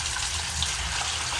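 Water trickles and gushes weakly from a pipe partly blocked by plastic, making a steady, moderate splashing flow that runs on without pause and with no voices.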